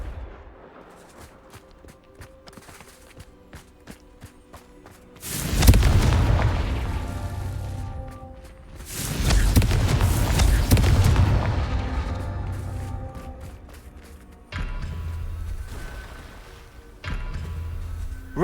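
Confringo fire spells exploding in Hogwarts Legacy, two large booming blasts with long rumbling decays, followed by smaller bursts, set against quiet game ambience with soft tonal music.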